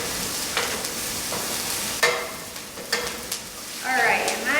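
Onions and peppers sizzle in a pan while a metal spoon stirs them, a steady frying hiss broken by sharp scraping clinks of metal against the pan.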